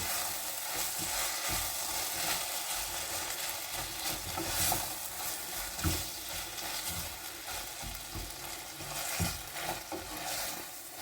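Sugar being stirred into onions frying in butter in a pan, a steady sizzle running throughout with scraping stirs rising and falling close by, no talk.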